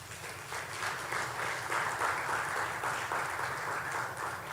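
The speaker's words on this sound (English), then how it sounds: "Give him an applause." Applause from the audience at a university graduation and recognition ceremony, a steady wash of many hands clapping in a large hall that holds fairly even throughout.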